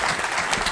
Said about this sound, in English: Let's give them a round of applause one more time for all their hard work on making tonight happen